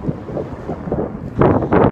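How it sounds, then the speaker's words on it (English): Wind buffets the microphone in low rumbling gusts, with two stronger blasts near the end and no talking. "Pretty windy out here."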